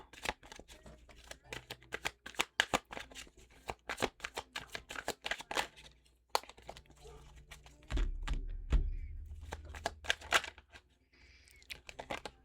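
Tarot cards are shuffled by hand in rapid, uneven bursts of crisp riffling and slaps, close up, with a few soft thumps and a low rumble of handling toward the end.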